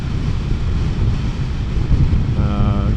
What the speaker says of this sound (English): This windscreen, I'm getting some wind shot right into my neck and face